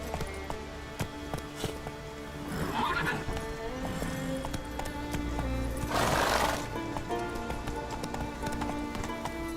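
Roach the horse in The Witcher 3 neighs loudly and whinnies over steady hoofbeats of a gallop, a continuous clip-clop rhythm running through the whole stretch with faint rain-like patter behind.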